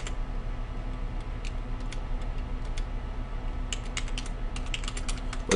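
Steady typing on a computer keyboard, a continuous run of quick clicking keystrokes over a constant low hum, with a denser burst of keys toward the end; no one speaks.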